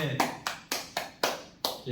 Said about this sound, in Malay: Okey, beri tepukan semua.